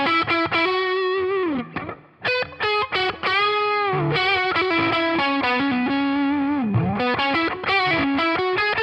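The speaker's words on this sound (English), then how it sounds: "I also have a distortion, and this is set up to be a fluid lead sound." An electric guitar runs through NUX Cerberus distortion set for a fluid lead tone, playing loud, close, sustained singing notes with bends and a short dip, and nobody talks.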